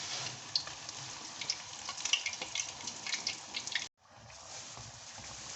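Aloo katori, a potato basket, frying in hot oil gives a steady bright sizzle with scattered pops and crackles, briefly cut off near the end before resuming.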